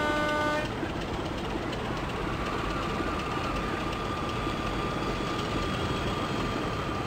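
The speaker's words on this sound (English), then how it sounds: "Oh look, we've got a class 37 coming past us now." A Class 37 diesel locomotive passes in the OpenRails train simulator, a steady, loud engine drone holding evenly throughout with a brief tonal note at the start.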